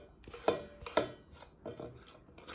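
Knife chopping onions on a cutting board, a handful of quiet, irregular cuts, two sharper knocks early and softer strokes after, close up with no talk.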